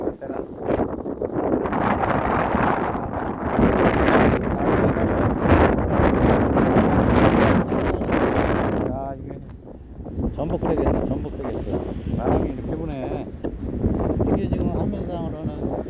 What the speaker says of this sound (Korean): 아유 바람이 아주 그냥 태풍이 부네 태풍이